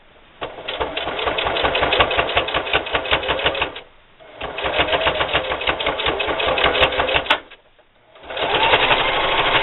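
A sewing machine stitches in reverse along a seam on a patio umbrella strap, loud rapid mechanical chattering in three runs with short pauses between, close up and without talk.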